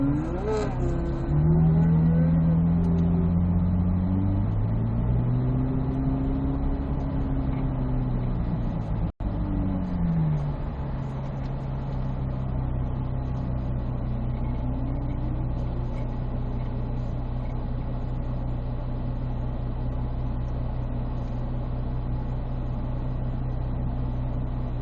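A car on a timed autocross run revs and accelerates close by, engine pitch climbing and dropping through repeated shifts and turns, then settles into a steady drone for the rest of the run with no talk over it.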